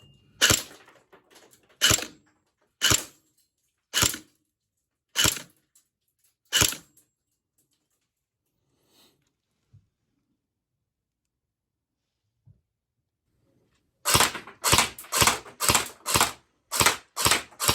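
A CYMA CM050A airsoft pistol test-fires in sharp, close snapping shots: five evenly spaced single shots, a long quiet gap, then a quick burst of about eight rapid shots.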